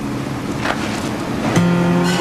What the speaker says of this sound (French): ça c'est Noah, c'est le bruit de son moteur.